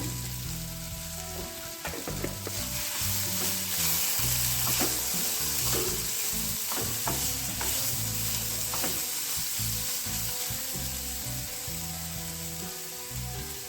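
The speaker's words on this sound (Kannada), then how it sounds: "ಚೆನ್ನಾಗಿ ಫ್ರೈ ಮಾಡ್ಕೊಳ್ಳೋಣ" Cluster beans frying in a pan with turmeric for chutney, a loud constant sizzle close by, broken by repeated scraping and stirring clicks of the spatula, with no talking.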